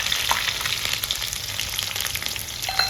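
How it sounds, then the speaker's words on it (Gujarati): Sugar drops into a hot oil tempering of mustard seeds and chilies for khaman, which keeps up a steady, moderately loud sizzle with small crackles and occasional sharper pops, no one speaking. "તો હવે નાખી દઈએ આપણે મોરસ."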